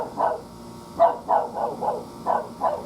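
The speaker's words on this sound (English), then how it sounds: "sorry about the neighbor's dog." A neighbor's dog barks outdoors in a series of about seven sharp, moderately distant barks, some in quick pairs, with quiet gaps between them.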